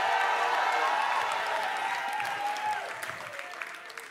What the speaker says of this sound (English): I said, clap your hands, O ye people